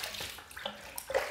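Water squeezed and dripping from a soaked shaving brush over a basin of hot water, brief wet splashes and trickles, close and fairly quiet.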